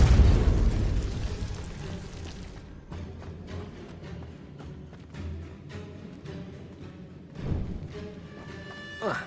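Depulso spell blast in Hogwarts Legacy, a loud booming burst at the start followed by crackling debris and scattered game effects, with another thump near the end.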